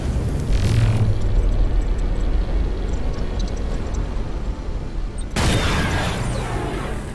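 Torpedo explosions in the space battle game Battlefleet Gothic: Armada: a deep, sustained rumble with a heavy boom near the start and another powerful blast around the five-second mark, loud and continuous throughout.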